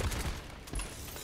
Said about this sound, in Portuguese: Personagens como o Victor, você segura o botão esquerdo e atira